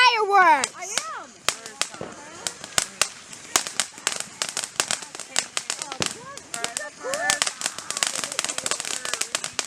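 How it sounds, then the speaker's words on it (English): Fourth of July fireworks bursting repeatedly with sharp cracks and crackling pops, close and loud, while children and people talk excitedly over the explosions. "Tyler, look at the fireworks."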